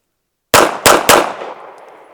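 Three quick pistol shots from an Archon Type B firing Arms Corps 115 grain rounds at a range, loud and close, the last one's echo fading into a long ringing tail.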